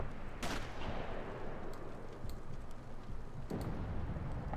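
Gunfire in the video game Sniper Elite, with sharp distant shots cracking through a constant dense rumble of battle noise, a couple of louder reports standing out over the din.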